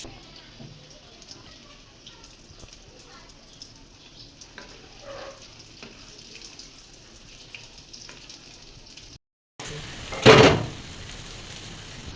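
Lentil and potato fritters (bora) made with flour and rice flour fry in hot oil, a steady soft sizzle under faint background sounds, then a louder burst of crackling after a brief cut.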